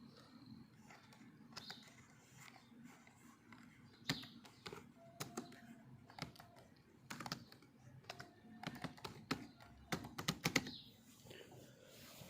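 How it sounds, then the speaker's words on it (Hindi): Fingers type on a computer keyboard while entering a header in MS Word, with irregular, quick keystrokes in soft bursts and no voices. "फॉर एग्ज़ाम्पल मैं यहाँ टाइप करता हूँ"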